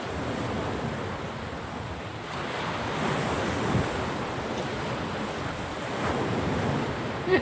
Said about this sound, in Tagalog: Ang lakas ng alon